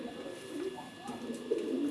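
Pigeons coo in soft, repeated low rolling calls at close range, with a few overlapping bursts and a slightly louder coo near the end, all over a steady background hum.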